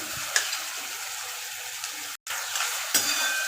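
Steady sizzling of chopped onions frying in a pan, with occasional stirring scrapes and a brief cut in the sound.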